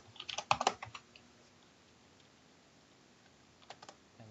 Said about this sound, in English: I forgot to type in sum here